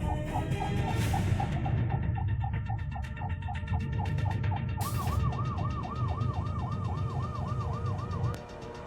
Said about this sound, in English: That's the attitude towards the ambulance.